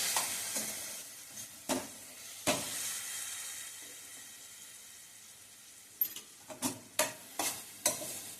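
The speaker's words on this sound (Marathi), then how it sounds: "आता हे छान परतून घ्यायचंय." A pigeon pea masala is sautéed and stirred in a pan, with a soft, continuous sizzle broken by sharp spoon scrapes, a few at first and then a quick cluster.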